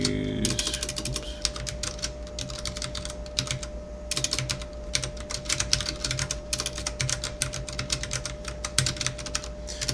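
Steady typing on a computer keyboard during a live coding session, with rapid, continuous key clatter in dense bursts and brief pauses, close and clear, with a faint steady hum underneath and no talking.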